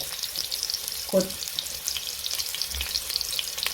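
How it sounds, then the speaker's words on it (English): Onions go into hot oil in a pan with a faint, steady sizzle and a brief clunk partway through, quiet and without voices. "Now I've put my oil on fire. Straight away I add the onions"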